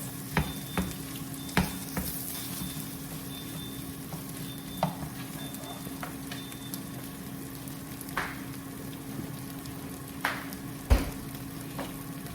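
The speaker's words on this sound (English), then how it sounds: "It's just me cutting it or breaking it up into smaller pieces, but it's pretty much cooked." Ground turkey sizzles and fries in a pan while a utensil breaks it into smaller pieces, giving scattered scraping clicks and taps over a steady sizzle, with no talk.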